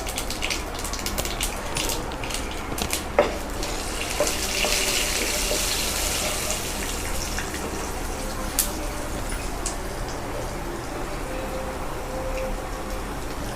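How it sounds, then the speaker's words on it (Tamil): Lentils and asafoetida fry in oil with a continuous hissing crackle that sits close and fairly loud the whole time, a few sharp pops breaking through. "இதெல்லாம் போட்டு வறுத்துக்கலாம் அதோட கொஞ்சமாக பெருங்காயத்தை வச்சு எடுத்துக்கலாம் பொரியட்டும்"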